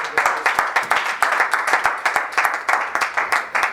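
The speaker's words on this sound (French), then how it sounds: "Давайте аплодируем" A church congregation claps rhythmically in unison during worship, steady loud beats repeating about twice a second with a faint voice underneath.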